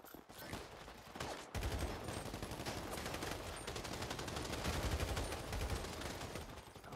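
Gunfire in GTA on PC: long runs of rapid automatic shots, loud and dense, with a brief pause near the start before the firing resumes and continues unbroken.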